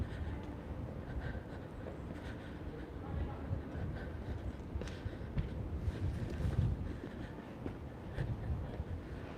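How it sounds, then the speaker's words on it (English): Low, blustery wind rumble buffets the microphone on an evening walk through Edinburgh's Old Town, rising and falling in gusts throughout. "Oh, there's the wind again."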